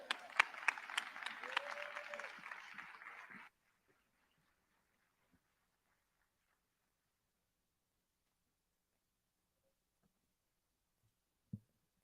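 Audience applause at the City of Seattle staff day summit, a dense burst of clapping lasting about three seconds before cutting off to near silence, with one faint isolated thump later.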